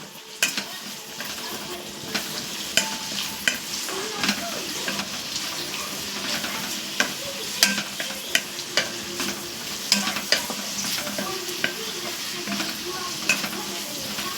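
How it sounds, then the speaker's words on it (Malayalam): Onions and curry leaves are stir-fried in a pan, with a steady sizzle under repeated sharp scrapes and clinks of a spoon against metal, spaced fairly regularly throughout. "സബോളയ്ക്കൊപ്പം കുറച്ച് കറിവേപ്പില കുറച്ച് കറിവേപ്പിലും കൂടി ഇടണം എന്നിട്ട് ഇളക്കി കൊടുത്ത് ഒന്ന് മൂപ്പിച്ചെടുക്കണം"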